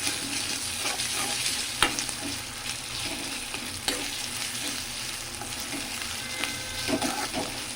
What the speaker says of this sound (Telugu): దీన్ని కూడా స్మెల్ పచ్చి వాసన పోయేదాక వేయించుకోవాలన్నమాట